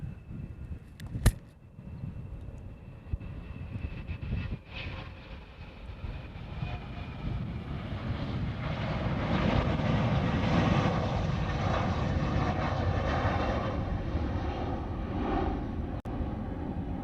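An airliner departing Hawaii for Maui makes a distant engine roar that gradually swells and holds steady, with a sharp click near the start.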